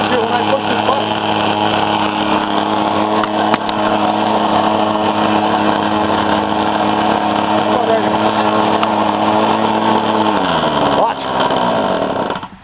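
A K&B 20 RC model glow engine runs at a loud, steady high-pitched buzz, holding constant before dropping in pitch and cutting out near the end.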